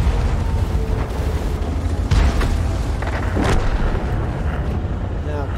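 Tank cannon fire in a World of Tanks style battle game with KV-2 and KV-85 tanks: a few deep booming shots and sharp bursts over a constant engine rumble, with someone commentating throughout.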